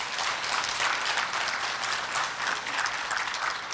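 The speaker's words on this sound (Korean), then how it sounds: "큰 박수 부탁드립니다." An audience at an anniversary forum applauds a speaker, producing dense, even clapping that stays loud and continuous for several seconds, with no voices over it.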